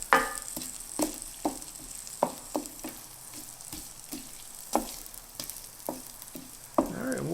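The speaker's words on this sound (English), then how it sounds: "So we're going to saute this up for a couple of minutes here." Ginger sautéing in butter and oil for a keto chicken curry hisses steadily up close, broken by sharp, regular scrapes and clicks of a spoon stirring the pan.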